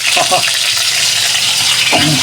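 Chicken and squid fry loudly in a pan, a dense close sizzle that stays constant, with a couple of brief stirring clatters.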